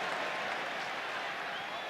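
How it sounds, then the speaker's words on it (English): A football crowd at Middlesbrough's Riverside stadium in 1995 roars and shouts to urge United home, a dense, steady wall of distant voices and clapping without pause. "Crowd trying to shout United home here."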